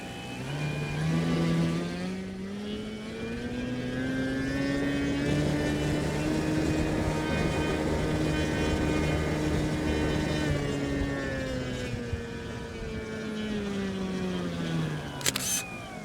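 A Hobbywing Platinum 41 electric motor on an 8-pound fixed-wing RC plane is slowly throttled up during a thrust test, its whine rising smoothly, holding at a loud steady howl, then winding back down, with a brief click near the end.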